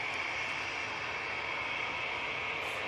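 A Ryanair Boeing 737 MAX 8 airliner bound for Milan, its engines a steady, loud broadband roar with a persistent hiss, continuous and unbroken throughout.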